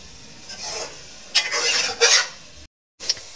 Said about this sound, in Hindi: इसको भून देंगे, अच्छे से उसकी बनाई कर देंगे मटरों की और गोश्त की दोनों की, लो फ्लेम पे